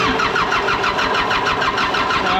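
A John Deere 4045 diesel engine on a 450G dozer, suffering Stanadyne DB4 injection pump problems, cranks over with a loud, rhythmic starter churn that pulses evenly and never catches.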